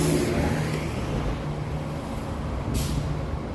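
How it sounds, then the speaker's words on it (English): Night bus passing on a Toronto street before dawn, a broad engine rumble with a short hiss of air brakes, moderately loud. "There's the night bus."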